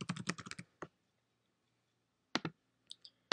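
Computer keyboard typing in a quiet room: a quick run of close, crisp key clicks, a pause, then a few scattered taps.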